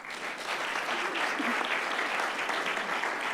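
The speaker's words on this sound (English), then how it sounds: "How about a round of applause for the coach?" Steady, dense applause from an audience at a city council meeting honoring a national champion coach, filling the room evenly from start to finish with no talk over it.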